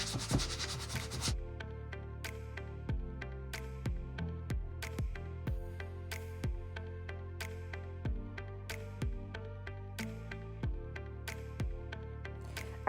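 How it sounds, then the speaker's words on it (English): Rhythmic scuffing of a sanding block scuff-sanding a wooden nightstand before painting, steady back-and-forth strokes repeating at a regular pace, close and fairly quiet. "I then use the sanding block to scuff sand the rest of the nightstand."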